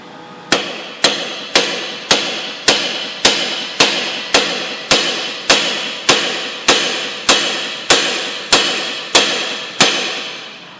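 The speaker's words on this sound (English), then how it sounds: "we're going to tap right here where it actually attaches to it, and we're going to try to separate the two of them" About fifteen sharp, evenly spaced hammer strikes ring out on a Ford Focus front strut to separate it from the steering knuckle, each metallic tap loud and close and followed by a short decay.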